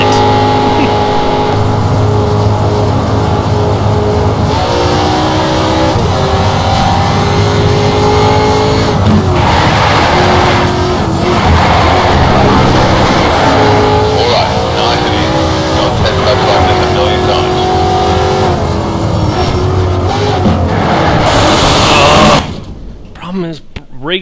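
A race car in Need for Speed Shift roars through a lap, its engine revving and shifting continuously with tire squeal through corners, loud and close, with a voice talking over it.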